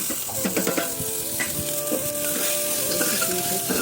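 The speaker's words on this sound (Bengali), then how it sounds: "একটু জিরে ফোড়ন দিয়ে নিই" Cumin seeds tempering in hot oil for khichuri crackle and sizzle steadily, with intermittent stirring scrapes close up and no talk.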